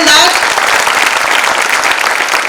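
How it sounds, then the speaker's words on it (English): An audience at the 30th International Economic Convention bursts into dense, steady applause that carries on throughout, with a voice heard briefly at the very start. "Yes, we can have a round of applause."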